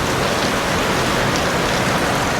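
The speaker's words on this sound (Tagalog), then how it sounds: "lumalakas ang ulan" Heavy rain pours down steadily, a dense, loud hiss of drops pattering on surfaces with no pauses and no voices.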